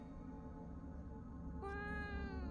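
In the video game Fears to Fathom: Woodbury Getaway, a cat gives a single clear meow, rising out of a quiet indoor ambience near the end.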